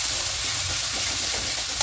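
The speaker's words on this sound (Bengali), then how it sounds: "এবার একটু সামান্য কষিয়ে নেব।" Ground turmeric, cumin, coriander and Kashmiri chilli sauté in a pan for a Bengali vegetarian cauliflower and potato curry, giving a loud, dense continuous sizzle close up with rhythmic stirring scrapes and no talk.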